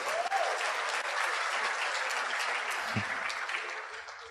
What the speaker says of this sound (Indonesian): tepuk tangan buat istri saya ya.